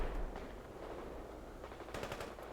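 Machine gun fire in the real-time strategy game World in Conflict rattles in short, faint rapid bursts against a low rumbling battlefield background, with a sharper cluster of shots near the end.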